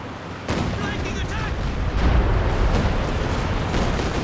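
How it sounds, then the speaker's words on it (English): Katyusha rocket artillery barrage in Company of Heroes 2, a dense rumbling wash of overlapping booms and launch roars, loud and sustained throughout, with a commentator's voice talking over the battle. "Katyusha rockets coming the other way."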